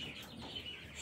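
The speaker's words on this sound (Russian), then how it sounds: "Сейчас я выгоню всех цыплят" A crowd of young chicks peeps in a poultry enclosure, the high thin calls overlapping into a steady, continuous chatter at moderate distance with no voices over them.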